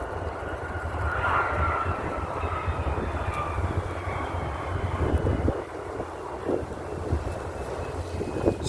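A jet airplane at LAX revs up for takeoff, its engines roaring and whining steadily at a distance, with wind buffeting the microphone and the noise holding loud throughout.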